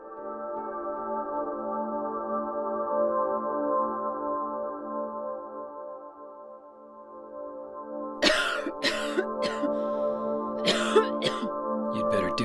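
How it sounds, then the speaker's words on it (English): A man coughs several times in quick bursts near the end, in the Silent Hill 2 video game, over a steady droning musical tone that fills the earlier part alone. "You'd better do something about that cough."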